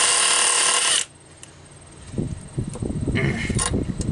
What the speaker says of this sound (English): we live in the modern age of power tools